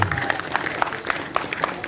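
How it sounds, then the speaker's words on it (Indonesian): Clapping from an audience at an Islamic boarding school gathering during a Ramadan tarawih prayer competition, honouring students who read classical texts; brisk, fairly close applause with distinct individual claps standing out. "Tepuk tangan dulu untuk santri-santri yang baca kitab kuning."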